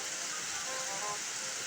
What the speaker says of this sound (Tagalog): Grabe, oh, hataw na hataw ang ulan.